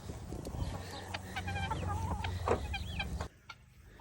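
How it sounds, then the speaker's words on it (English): Brown Shaver chickens cluck and chatter close by in a busy stream of short calls, which cuts off abruptly near the end, leaving quiet. "This is a little brown shaver chicken"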